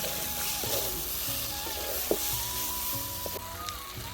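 Fig and potato curry with salt is sautéed in a pan in a village kitchen, giving a low continuous sizzle with light scraping and stirring knocks and a faint background hum throughout.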